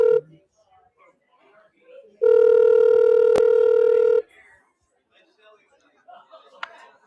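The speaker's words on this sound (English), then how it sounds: "we're getting ready to dial up our next guest here" A telephone line tone sounds steadily for about two seconds, loud and alone, after a few short clicks and faint background noise, as a call is placed to a guest for a live team state bracket reveal broadcast.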